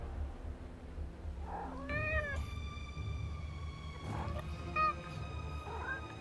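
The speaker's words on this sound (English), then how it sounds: "Whoa, is that a cat?" Cat in the video game Forspoken giving several drawn-out, tonal meows with rising and falling pitch, spaced apart over a low ambient rumble.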